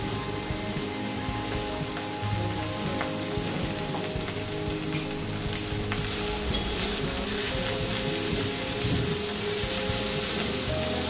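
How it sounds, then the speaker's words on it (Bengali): Snake gourd (chichinga) with salt and turmeric fries and is stirred in a pan, a steady close hiss of sizzling under scraping and clinking from the stirring, with no talk. "এবার এটা এইভাবে নেড়ে আমি এটাকে ঢাকা দিয়ে দেবো"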